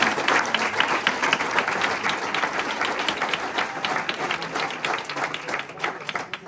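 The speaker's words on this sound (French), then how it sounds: "je peux les applaudir aussi" Sustained applause from an audience at the first edition of a cooking competition in the Comminges, a dense, steady clapping that fills the whole stretch at close range.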